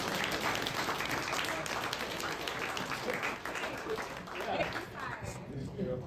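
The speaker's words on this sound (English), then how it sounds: "let's give them a round of applause" A room full of people applauds, steady clapping that swells and carries on for several seconds, with some voices mixed in.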